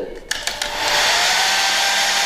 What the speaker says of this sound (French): Je vais accélérer le séchage avec le sèche-cheveux.